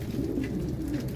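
Pigeons and young squabs coo steadily in a loft housing white, silver and red meat pigeons, a low continuous murmur of overlapping calls, close and fairly full, with no voices.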